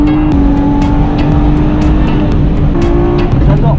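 A 360-horsepower Volkswagen Polo accelerates hard on a race track, its engine a loud, continuous close-up roar with shifting tones through gear changes and no talk over it.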